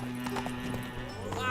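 In the video game Witcher 3, a horse's hooves clip-clop in a quick rhythm under game music and ambience, with a brief whinny-like sound near the end.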